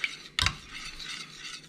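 Butter and condensed milk being stirred in a pot for a Lithuanian lazy man cake, opening with one sharp clink of a utensil against the pot, then a soft, steady scraping swish with no voices.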